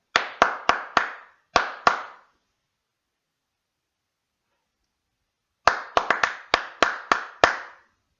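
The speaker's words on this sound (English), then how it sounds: "So various rhythms. Try this one. Right, you clap now." Two bursts of crisp, close hand claps in a syncopated pattern, six spaced claps, a long silent pause, then a quicker run of about ten claps, heard alone in a quiet room.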